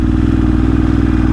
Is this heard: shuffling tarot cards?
no